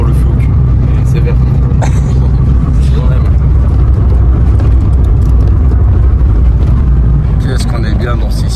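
A Peugeot 205 GTI 1.6i with 115 hp pulls hard toward 6000 rpm, its loud, sustained engine drone filling the cabin while a person talks over it throughout.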